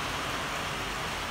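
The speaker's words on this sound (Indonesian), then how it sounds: "Hujan." Heavy rain pours steadily outside an open shop, a dense, continuous hiss and patter filling the air evenly with no pauses and no voices.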